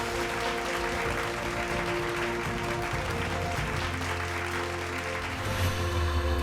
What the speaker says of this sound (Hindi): जोरदार तालियां अक्षरा सिंह के लिए।